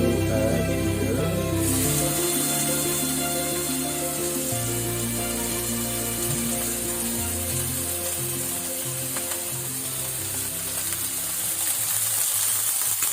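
Steak fries in a pan with a steady, continuous sizzle, heard alongside a prominent background music track with shifting bass notes.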